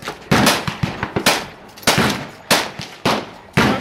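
.357 Magnum revolvers firing outdoors at a canyon range, about seven loud sharp reports spaced roughly half a second apart, each with a brief ringing decay.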